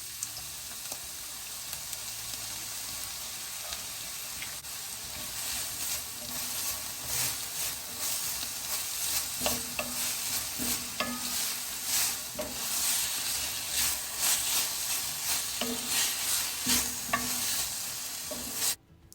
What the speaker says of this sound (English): we are gonna saute those again for like 2 minutes together